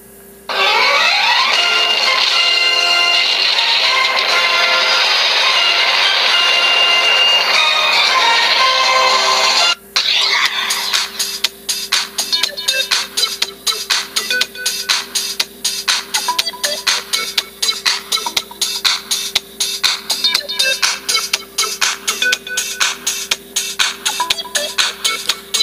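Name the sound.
custom-made iPhone ringtones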